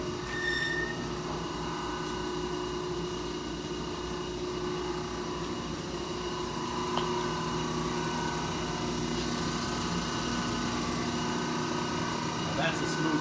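A large Monarch engine lathe headstock runs at about 50 RPM, giving a steady, smooth mechanical hum with constant tonal whine throughout, nearby and moderately loud with no talk over it.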